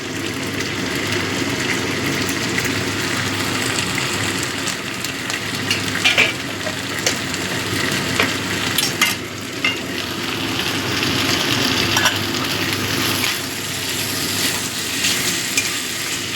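Ginger-garlic paste hits hot oil in a frying pan, giving a steady, loud, close sizzle with crackling bursts throughout, no talking over it.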